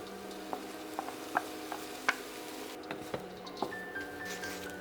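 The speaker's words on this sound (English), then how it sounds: "In goes the day-old cooked jasmine rice." Day-old cooked jasmine rice stir-fried with shrimp paste in a pan, a steady sizzle under a series of regular spatula taps and scrapes against the pan.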